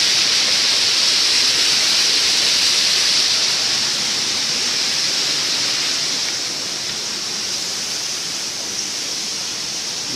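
Water gushing from caves near Taounate, Morocco makes a loud, dense, continuous roar like a waterfall, steady throughout and easing only slightly toward the end, with no voices.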